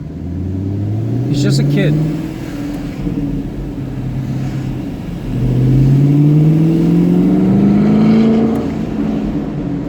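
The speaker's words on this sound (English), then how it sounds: "he rides his four-wheeler back and forth" A neighbor's four-wheeler ATV engine revs back and forth down the street, rising and falling in two swelling passes. Someone talks over it.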